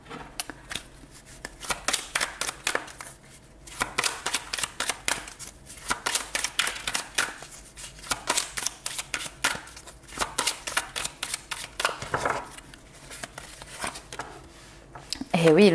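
Tarot cards being shuffled for a new spread, a rapid fluttering riffle of cards in bursts with brief pauses, fairly close.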